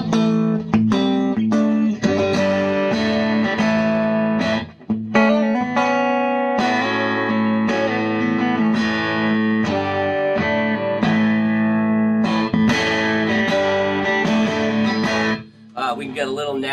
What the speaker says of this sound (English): Natural power amp distortion, that's what's coming through there.